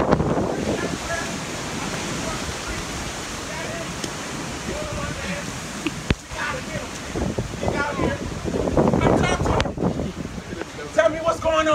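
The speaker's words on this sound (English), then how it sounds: "the wind is so strong" Strong hurricane wind during Hurricane Irma roars and buffets the microphone steadily, rising in gusts near the end while people shout and talk excitedly over it.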